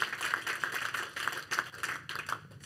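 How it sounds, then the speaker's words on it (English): Scattered hand claps at a formal oration event, a small group clapping unevenly for a few seconds, moderately quiet and somewhat distant, with the claps tapering off near the end. "I'll give you a bit of a clap beforehand"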